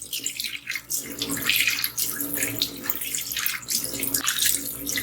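Water runs steadily from a basin tap while it is being cleaned, a close, continuous splashing flow into the sink with small fluctuations and no speech.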